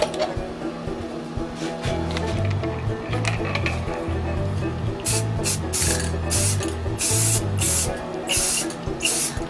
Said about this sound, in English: Make sure your can's moving whenever you spray.